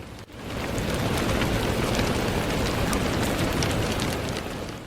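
Steady rain falling on leaves and soft ground in a forest, a dense continuous patter that holds loud and even throughout with no voices.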